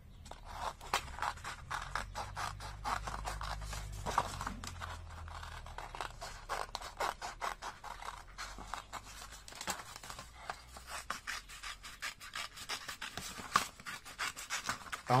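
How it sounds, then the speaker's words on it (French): Scissors cut paper around a die cut shape, with many close, crisp snipping strokes in irregular runs, interrupted by light paper rustling and handling. "Alors moi je coupe tout autour comme ça parce que celui-là c'est une grosse pièce."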